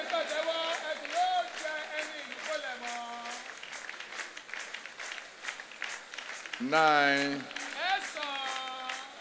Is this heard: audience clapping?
yes